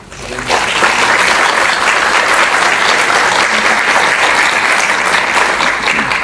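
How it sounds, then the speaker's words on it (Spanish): Loud sustained applause from an audience at a court ceremony welcoming a superior court judge fades in quickly and then holds as a dense, even roar of clapping. "a quien recibimos con un fuerte voto de aplausos"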